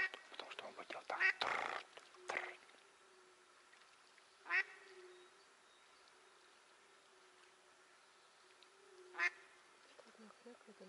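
A few distinct duck quacks spaced seconds apart from a decoy duck during spring drake hunting, with a burst of nearby rustling early on and a low steady hum underneath.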